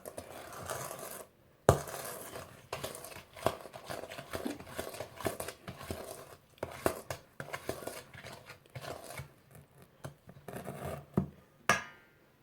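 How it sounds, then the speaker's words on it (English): Muffin batter for chocolate and nut muffins being mixed in a bowl, with repeated scraping and clinking of a utensil against the bowl in uneven bursts, close up, with short pauses between strokes. "Mix it thoroughly"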